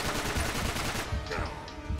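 Gunfire in the video game Uncharted 3, a rapid burst of shots, dense and fairly loud, lasting about two seconds.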